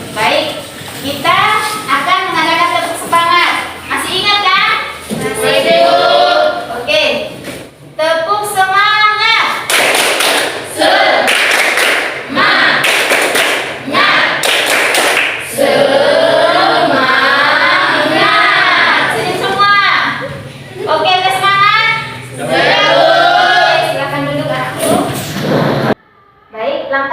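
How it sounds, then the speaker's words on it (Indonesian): Classroom of children performing the 'tepuk semangat' rhythmic clapping chant, voices chanting in unison with bursts of claps and taps, loud and close, repeated in several rounds. "kita akan mengadakan tepuk semangat"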